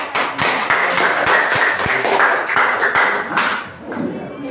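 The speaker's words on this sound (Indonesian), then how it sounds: "Tepuk tangan untuk" A classroom audience of students applauds after group presentations, a dense and steady clapping with a few sharp individual claps standing out, fairly loud and close, lasting the whole stretch before tapering slightly at the end.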